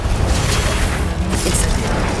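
A Glacius ice spell cast in Hogwarts Legacy, a dense whooshing magical burst with low rumbling energy and a brief bright shimmer near the end, loud and continuous over about two seconds.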